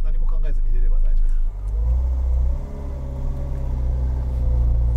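Renault Twingo with a two-pedal manual-shift gearbox pulling away in first gear, its engine a loud, steady low rumble that dips briefly at a gear change, with a voice talking over it inside the car.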